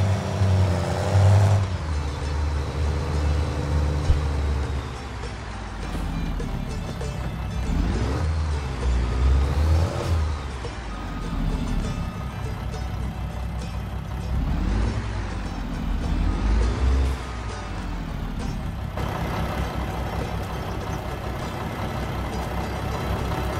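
A pickup truck pulling a matching trailer across the Canadian prairie at harvest time, its engine a steady close drone with rising and falling revs and rattling load noise throughout, no talking.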